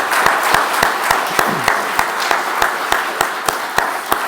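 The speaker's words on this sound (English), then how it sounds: "please join me in a round of applause for my dear colleagues" An audience at a strategic foresight event applauds colleagues with steady, dense clapping throughout. A few sharper rhythmic claps stand out above the wash of the crowd.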